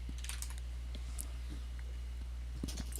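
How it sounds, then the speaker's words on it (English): Typing on a computer keyboard during an online call, heard as faint, scattered clicking bursts over a steady low hum, with no talking. "I can hear you typing"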